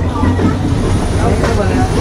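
The Sampark Kranti Express, a weekly express running from Kolkata to Varanasi, rolls along with a steady, loud rumble and faint rail clatter for the full two seconds.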